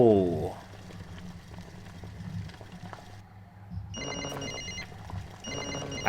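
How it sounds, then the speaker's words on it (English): A phone ringtone in the NightCry video game: a bright electronic ringing plays twice in bursts over a low ambient hum, after a faint opening tone. "I thought I'd like to use a ringtone and call it or something."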